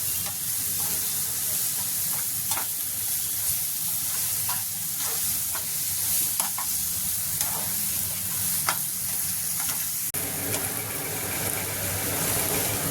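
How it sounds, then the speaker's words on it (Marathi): Ginger garlic paste roasting in a pan for egg akuri, a steady close sizzle with scattered crackles and occasional scraping stirs, continuing without talk. "आणि एक चमचा अद्रक लसूण पेस्ट टाकायची आणि ते छान सर्व भाजून घ्यायचं आहे"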